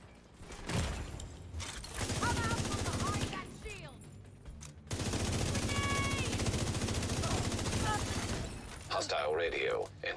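Rapid bursts of gunfire from a video game, loud and repeated in long volleys, with someone speaking over much of the shooting.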